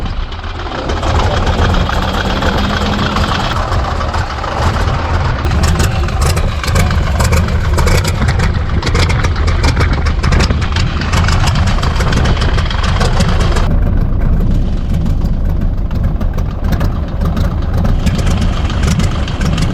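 Restored antique V12 and radial engines running loud and close, a continuous rumbling idle with a dense knocking roar that holds steadily throughout, no talk over it.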